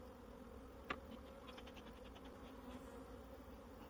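Soft, steady buzzing from many honeybees in a hive, fairly quiet and continuous, with a brief tap near the start.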